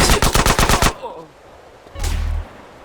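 Rapid burst of about seven loud gunshots from GTA San Andreas Trilogy Definitive Edition, followed by quieter game noise and a short low rumble near the end.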